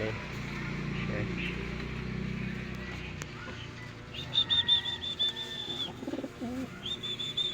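Pet pigeons at a coop coo in soft repeated phrases, close by, with someone talking over the first half before the birds' calls come through more clearly.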